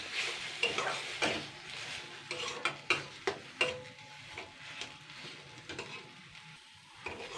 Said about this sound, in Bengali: যাই হোক একটু নাড়াচাড়া করে নেব।